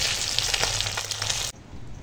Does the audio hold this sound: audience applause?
no